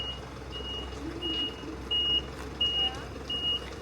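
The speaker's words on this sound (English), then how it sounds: "These little box trucks are so cute." A small box truck on a street in the Japanese countryside sounds reversing beeps in a regular rhythm, each tone evenly spaced, clear over low background traffic noise.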